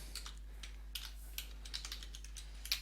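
Quiet, close typing on a computer keyboard: a loose run of light clicking keystrokes in small bursts over a low steady hum, with no talking.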